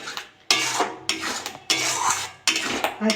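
A spoon scrapes and clatters around a pan while tomatoes and Kashmiri chili powder are stirred in, four or five distinct sweeping strokes in quick rhythm, close and fairly loud with no voices.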